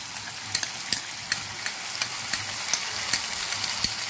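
Ginger goes into mushroom dal frying in a pan, giving a steady close sizzle punctuated by regular clicks and scrapes of stirring.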